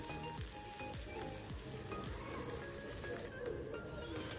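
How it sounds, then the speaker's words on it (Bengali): Chopped onions frying gently in a pan for a pointed gourd (potol) dish, with a steady soft sizzle and occasional stirring scrapes running throughout, close and moderately quiet. "পেঁয়াজটাকে আমি হালকা করে ভেজে নেব, জাস্ট একটু নরম করে নেব"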